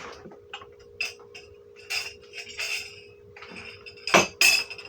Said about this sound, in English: I can also use a knife and pierce it